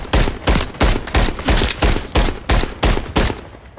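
Rapid bursts of video game gunfire from a new weapon, about ten evenly spaced loud shots in quick rhythm, close and dominant with no talk over them.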